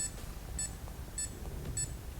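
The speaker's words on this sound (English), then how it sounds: "every time you will press a button, it's gonna do a beep" Key-tone beeps from a Garmin Instinct watch, four short, high electronic chirps evenly spaced about every 0.6 seconds, each a brief double-pulse over quiet background noise.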